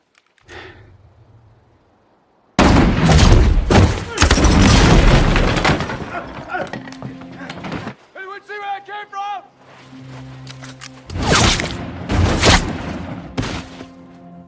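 Gunfire and booms from a shootout in the 2016 film Wind River, loud bursts and blasts mixed with gasps and voices, with quieter gaps between loud stretches.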